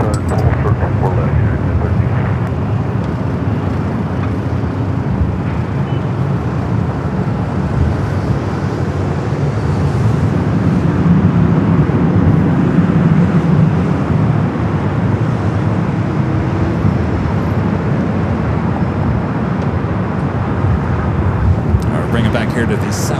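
A Delta airliner taking off from runway 24 left at LAX makes a steady, broad jet roar that swells slightly midway and holds throughout. Wind buffets the microphone and a voice talks over it.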